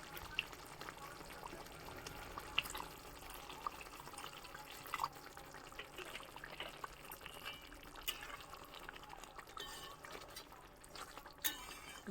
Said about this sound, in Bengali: এবার আমি এর মধ্যে খুব অল্প করে জল দিয়ে দেবো।